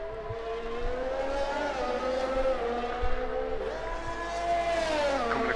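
An Aston Martin Formula 1 car races a lap in F1 2021, its engine howl steady and loud with rising and falling pitch through gear changes, heard alone without commentary.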